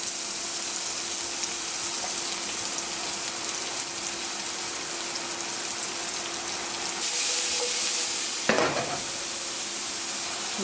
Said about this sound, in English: start stir frying the veggies